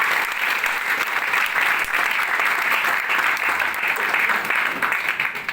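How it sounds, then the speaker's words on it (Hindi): Loud, sustained applause from a large audience at a marketing training seminar, dense steady clapping filling the whole stretch without letup. "जोरदार तालियां।"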